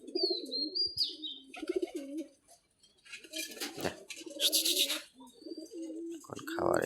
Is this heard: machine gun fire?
no